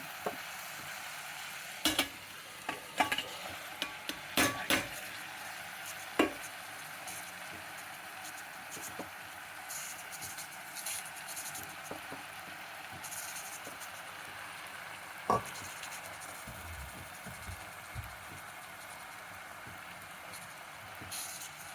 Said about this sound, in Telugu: ఇంత బాగా కలుపుకోవాలండి